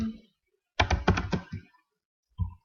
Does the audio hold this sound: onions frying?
no